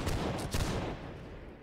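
Musket volley in the Napoleonic-era video game Holdfast: Nations at War, a dense loud rolling crackle of many shots fired together, fading out over about a second.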